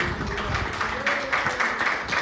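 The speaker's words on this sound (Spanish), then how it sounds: "Denle otro fuerte aplauso al Señor Jesucristo." A church congregation claps for Jesus Christ during a Spanish-language sermon, a steady wash of hand claps filling the room at moderate loudness with some murmuring voices underneath.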